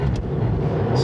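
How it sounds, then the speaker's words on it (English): A Mercedes-Benz 4Matic engine revs steadily while the car slides on ice, a close, sustained drone with all four tires spinning and no speech. "You're gonna watch the RPM gauge go up as I'm just giving it more gas."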